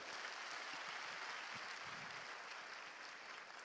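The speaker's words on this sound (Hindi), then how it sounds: "वेलकम कीजिए एक बढ़िया ताली से नताशा को।" Dense, steady applause from an audience welcoming a speaker onto the stage at an Amway diamond celebration event, continuous and fairly loud throughout with no talk over it.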